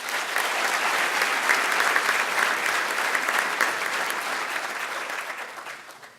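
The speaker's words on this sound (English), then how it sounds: "I'd like us all to give him a warm round of applause" An audience at a conference opening plenary claps for a government minister arriving to give a keynote, a dense, loud round of applause that holds steady for several seconds, then thins out toward the end.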